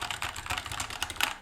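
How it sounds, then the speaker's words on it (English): Rapid typing on a budget gaming keyboard with Cherry MX Blue switches fitted with O-rings, a quick, close run of crisp clicky keystrokes at an uneven pace. "These are Cherry MX switches with O-rings. Blue switches."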